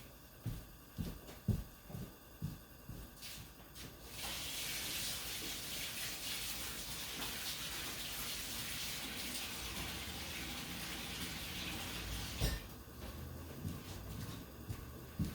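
Water from a tap runs steadily for about eight seconds as hands are washed at a sink, a continuous broadband rush that starts abruptly and stops, with light knocks and handling thumps before and after.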